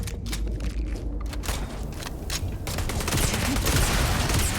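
A rapid-firing gun in the video game Starfield lets off dense, fast bursts of crackling shots, loud and close, that run together into a continuous volley, with footsteps and mechanical clatter mixed in.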